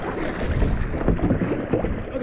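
A kayak on a glacial river in the rain, coming in to land, with paddle splashes and water sloshing against the hull under heavy wind buffeting on the microphone.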